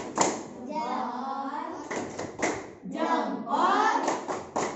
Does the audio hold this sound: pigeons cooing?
no